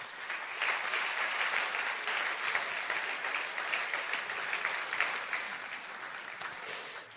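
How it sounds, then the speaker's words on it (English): An audience at the Bled Strategic Forum 2022 conference in Slovenia applauds in a sustained burst of many hands clapping, fairly loud and even, tapering slightly at the end. "I think that deserves another round of applause."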